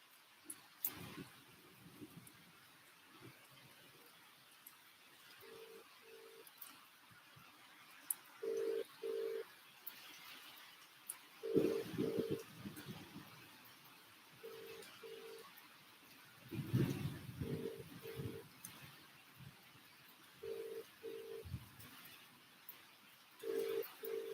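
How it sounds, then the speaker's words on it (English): A telephone rings out while a call is placed, with faint, short tone bursts repeating at uneven intervals over low background noise. "let's see if Anthony answers the phone"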